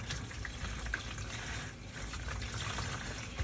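Water pours steadily from a tap into a bucket for washing clothes, a continuous splashing gush close by with no voices.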